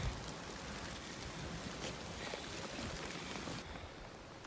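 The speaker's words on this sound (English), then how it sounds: "The lightning's coming down now and the rain's coming down" Heavy rain pours steadily on a beach during a thunderstorm, a dense, loud, close wash of drops and wind noise that holds for several seconds before easing slightly at the end; no one speaks.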